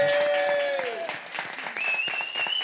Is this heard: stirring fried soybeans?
no